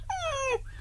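A voice imitating a dog crying, giving one short whimpering whine that slides downward in pitch and lasts about half a second, close and clear with no other talk.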